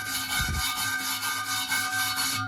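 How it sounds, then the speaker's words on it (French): Scraping the surface of an old tyre by hand to clean it: a continuous, close rasping rub with a steady back-and-forth rhythm and no talk. "je vais gratter l'ancien pneu si tu veux quoi. Pour avoir une surface propre."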